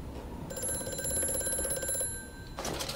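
A telephone rings inside the horror game Amnesia: A Machine for Pigs, a bright electric bell trill lasting about a second and a half, then starting again after a short pause, over a low ambient hum.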